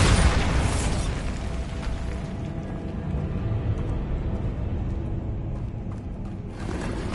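A Bombarda spell explodes in Hogwarts Legacy with a dense burst that booms at the start, then leaves a thick, rumbling, crackling wash of debris and mechanical noise that carries on throughout.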